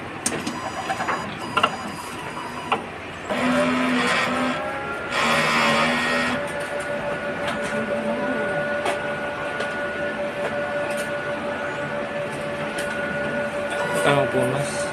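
A sublimation printer runs a head-clean cycle at the capping station, giving a steady mechanical hum with whirring, pumping bursts and a sustained tone, loudest in two stretches early on.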